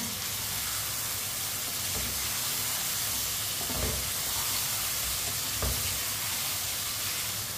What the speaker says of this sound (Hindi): टमाटर को भी 2 मिनट के लिए पका लेते हैं